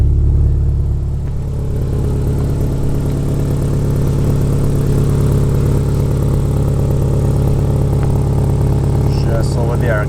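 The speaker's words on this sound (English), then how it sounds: "Well, it seems loud, but there is an exhaust leak." Subaru Forester engine fitted with a WRX exhaust and an exhaust leak, a steady loud low rumble idling close by, with a voice briefly near the end.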